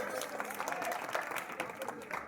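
An audience claps together at a village Ramlila performance, the applause steady and dense for a couple of seconds, with crowd murmur mixed in.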